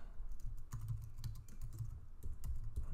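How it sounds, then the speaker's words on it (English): Quiet typing on a computer keyboard during an Excel forecasting session, a faint, uneven patter of key clicks with a few louder taps, no speech. "I can't type tonight"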